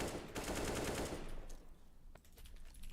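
Rapid automatic AK rifle fire in CS:GO, a loud burst of tightly spaced shots for about a second that cuts off, followed by faint scattered clicks and quieter background game sounds.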